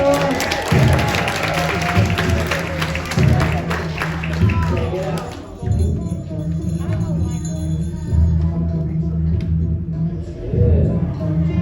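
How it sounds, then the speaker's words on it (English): Audience applause at a live performance at the Intertribal Friendship House in Oakland, California: sustained, dense clapping and crowd noise fill the room over a low, steady musical hum, with a brief dip midway before it swells again. "Give a round of applause."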